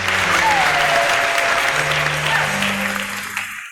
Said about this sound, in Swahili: Tumpigie makofi tena.